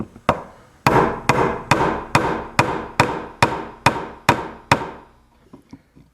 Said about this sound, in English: so I bought another hammer